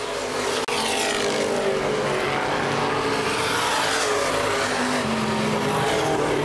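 Open-wheel modified race cars roar around the Baer Field Speedway oval during a feature race, a dense continuous engine wash heard from trackside, loud and steady with no voices.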